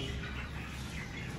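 Pigeons at a small mini zoo around feeding time make a dense, steady chatter of calls and wing flutter that continues without a break across the whole short stretch.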